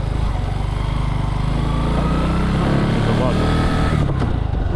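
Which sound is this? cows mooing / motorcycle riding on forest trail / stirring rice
motorcycle riding on forest trail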